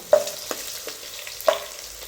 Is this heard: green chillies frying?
yes